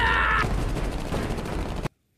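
Film gunfire from vampire soldiers: a dense, loud burst of rapid shots and crackling blasts that cuts off abruptly into near silence.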